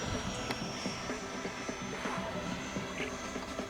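A Freewing F-16 70mm RC jet roars steadily overhead, its electric ducted fan giving a continuous broad whine with a thin high tone and faint outdoor rustle, no voices.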